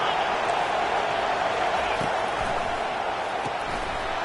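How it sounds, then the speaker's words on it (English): A college football stadium crowd roars in a steady, dense wash of noise early in a top 25 matchup, continuous and loud, with faint thuds and a commentator's voice underneath. "This crowd bringing the energy and noise early."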